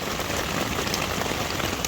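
Rain pours steadily onto a tent, a dense, close, even hiss of countless drops drumming on the fabric with no pauses.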